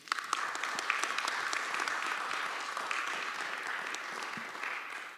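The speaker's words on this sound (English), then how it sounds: "I want to close this panel with a big round of applause for our panelists" Sustained applause from an audience for the panelists at the close of a political communication conference panel, a dense steady patter of many hands lasting the whole stretch without voices.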